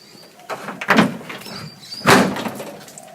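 A classic Mini van door is test fitted in a workshop, giving two clunking knocks of metal panel, the second louder, with faint scraping between.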